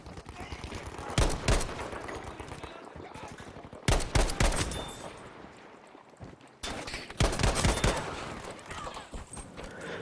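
Gewehr 43 semi-automatic rifle fire in Battlefield V on the Twisted Steel Conquest map: three loud clusters of rapid gunshots with echoing tails, separated by quieter stretches of battlefield ambience.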